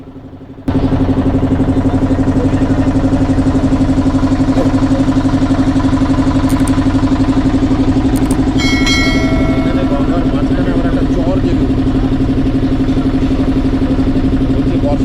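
A boat's motor drones steadily through a ride on the Ganges at Varanasi, a loud, close, constant engine hum that starts abruptly and runs unbroken to the end.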